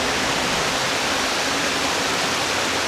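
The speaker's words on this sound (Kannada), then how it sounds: "ತುಂಬ ಚೆನ್ನಾಗಿದೆ ಈ ಒಂದು ಜಲಪಾತ" Ettina Hole waterfall roaring as a steady, dense broadband rush of falling water, close and loud, unbroken and without voices.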